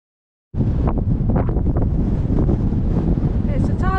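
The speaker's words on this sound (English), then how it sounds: "It's a tad windy." Strong mountain wind in the Cairngorms buffets the microphone in a loud, continuous rushing roar that starts abruptly after a moment of silence.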